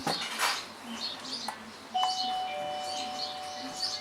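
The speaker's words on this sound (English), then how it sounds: "The doorbell rings." A Spotcam Doorbell 2 video doorbell chimes with a clear electronic tone that rings and sustains over faint background clatter and a soft voice.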